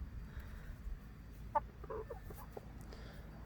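A few soft, brief clucks from 18-week-old chickens, faint and close, over a low background rumble.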